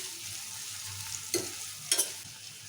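Long-sliced onions frying in oil for peanut rice, a steady moderate sizzle close by, punctuated by two brief clattering stirs of the spatula, with no talking.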